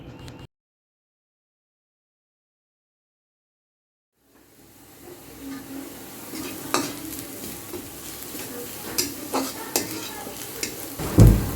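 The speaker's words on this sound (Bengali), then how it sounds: "পেঁয়াজগুলা একটু ভাজা ভাজা করে নিচ্ছেন।" Onions frying in a pan, a steady close sizzle with scraping stirs and occasional spatula knocks, starting after several seconds of silence.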